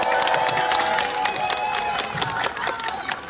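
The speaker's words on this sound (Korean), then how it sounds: "한 분 한 분 소개해 드릴 때마다 힘찬 박수와 함성 부탁드립니다" Crowd applause and cheering at a Democratic Party rally for National Assembly candidates at Suam Market in Ulsan, South Korea; dense continuous clapping with shouts, loud and sustained throughout.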